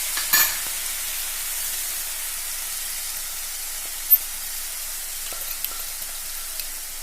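Ground chili paste fries on a low flame with a soft, even hiss, while a spoon taps and scrapes the pan now and then as it is stirred.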